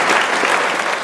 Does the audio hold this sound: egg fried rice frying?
no